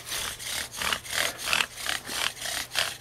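A wooden bow drill spindle rubs hard against a wooden fireboard in about eight rhythmic back-and-forth strokes, each a rasping, scraping swell, heard close and alone.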